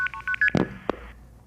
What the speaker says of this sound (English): And multi-frequency, some of you might have heard this when you were dialing, sounds like this.